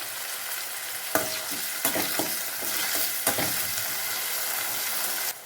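Onion and tomato for sambar fry in a pan with a bright, continuous sizzle, punctuated by a few sharp stirring scrapes, and no voices are heard.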